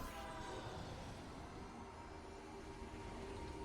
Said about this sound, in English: We on the train.